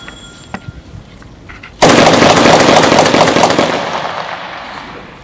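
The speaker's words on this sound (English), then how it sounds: "M1's great rifle, very accurate." Gunfire from an M1 rifle at an outdoor historic fort park: a sudden loud report about two seconds in, leaving a long booming tail that fades over several seconds, preceded by faint handling clicks.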